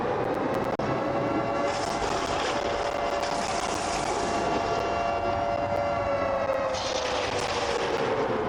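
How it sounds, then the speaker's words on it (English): A stadium siren wails after a game-tying kick at an American football game, a loud sustained rising and falling tone that holds steady over crowd noise for several seconds. "Let the siren play for the first time this week."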